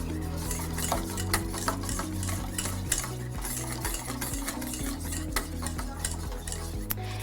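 Cold raspberry purée whisked by hand for a macaron ganache, a steady rhythmic scraping and clicking of the whisk against the bowl, close and continuous with no voices.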